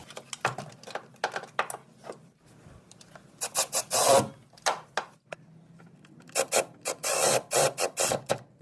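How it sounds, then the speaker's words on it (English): A socket ratchet snugging starter motor bolts on a 2009-on Hyundai Genesis Coupe 3.8, heard as close bursts of rapid clicking and rasping in several short runs between quieter gaps, no talking. "you put a socket in there and then ratchet"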